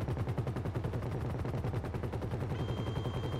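Rapid machine-gun fire in the Grand Theft Auto V Humane Labs Raid helicopter mission, a dense, evenly pulsing stream of shots close up and sustained for the whole stretch, with no talk over it.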